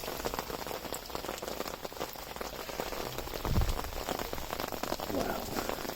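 Heavy rain pours steadily at night in a garden, a dense hiss of drops hitting surfaces close by with occasional heavier splats and a brief low thump.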